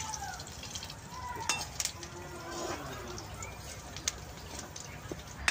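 Leaves sizzle and crackle in hot oil while a utensil stirs and scrapes the pan, with occasional sharp clinks.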